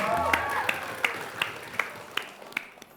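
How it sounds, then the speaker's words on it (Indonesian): An audience claps in a steady, evenly spaced rhythm at a televised Indonesian school quiz show, with crowd noise and a voice underneath. "Kita berikan tepuk tangan untuk kita semuanya."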